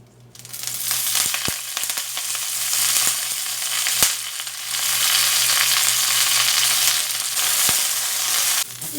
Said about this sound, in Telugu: కొంచెం నూనె వేసి టీ స్పూను కరివేపాకు వేయించుకోవాలి